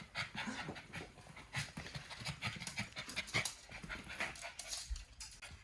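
A dog pants hard and fast close by, a steady rhythmic breathy huffing with a few small whimper-like sounds running through it, and no talk over it.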